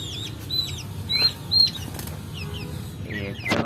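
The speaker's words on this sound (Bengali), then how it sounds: "এগুলো একদম ফুলের মতো, হ্যাজা মুরগি বলে এগুলোকে।" Fluffy Hyaza chickens at a farm, one of Brahma type, give quick bursts of wing flapping alongside high chirps and calls from other birds, ending in a louder scuffling flap.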